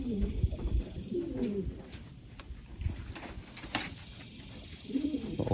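Racing pigeons coo softly in a loft on a hot day, low throaty murmurs rising near the start and end under a quiet background.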